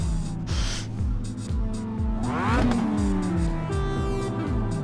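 A Mazda MX-5 race car in Assetto Corsa revs through repeated rising gear pulls, each climbing and dropping in a sawtooth rhythm at steady moderate loudness, with one sharp downshift blip in the middle.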